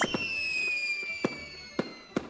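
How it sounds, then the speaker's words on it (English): Fireworks in the romance game Sweet Valentine Chocolatier: four sharp bursts pop at a steady pace over a bright, sustained musical chord, loud and clear without speech. "Just as you take your seat, the show begins. Woohoo! Fireworks!"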